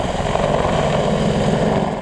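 A helicopter flies with a loud, steady engine drone and rhythmic rotor chop, close and continuous without any voices.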